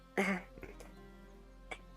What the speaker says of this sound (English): I've always been worried about that cough.